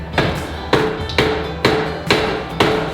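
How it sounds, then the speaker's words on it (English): A hammer bangs a coffee roaster's exhaust pipe into place inside a roastery. Six sharp, ringing metallic blows land in a steady rhythm, about two per second, close and loud with no talking. "I need a hammer."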